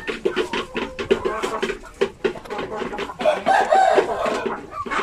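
Chickens of a small native breed cluck and chatter steadily at close range, with overlapping calls and brief squawks throughout and no talk over them.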